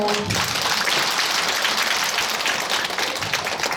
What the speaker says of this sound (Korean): 법사님께 박수 쳐주세요.